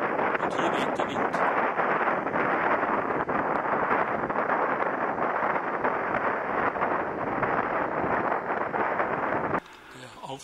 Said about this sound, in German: und hier weht der Wind